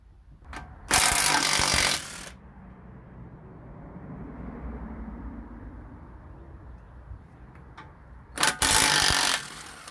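An impact wrench hammers out the oil pickup tube bolts on an LS engine, in two loud close bursts at the start and end with a quieter stretch of low rumble between them.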